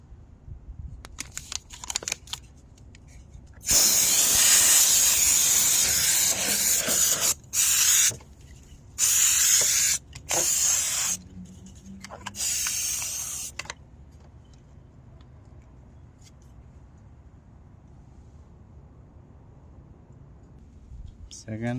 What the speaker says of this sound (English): first I will start with the dust remover. Electric duster.